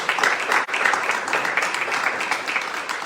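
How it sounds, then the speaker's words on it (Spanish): A church congregation applauds during a Spanish-language sermon, a full, continuous round of clapping filling the room at moderate loudness with no break. "Denle un aplauso."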